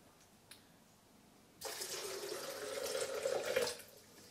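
Water pours into a blender holding soaked pumpkin seeds, a steady splashing stream that starts suddenly after a quiet moment, rises slightly, then cuts off near the end.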